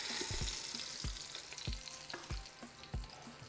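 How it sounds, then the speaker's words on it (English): Meat sears in the hot pot of an Instant Pot for taco filling, a continuous close sizzle with rhythmic scraping and thumping of a utensil moving the meat, with no talking. "we're going to be searing it for 3 minutes per side"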